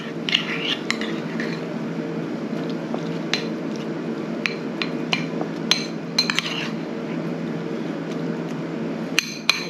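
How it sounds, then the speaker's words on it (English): A spoon working a thick Welsh rarebit mixture of cheese, black pepper and beer in a bowl, giving a steady wet churning with scattered sharp clicks and taps against the bowl. "it will come together if you just keep mixing it"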